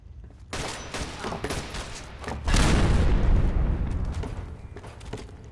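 Dense bursts of gunfire in the video game Fallout 4 crackle rapidly, then give way to a heavy rumbling volley that slowly fades, loud and close with no talk.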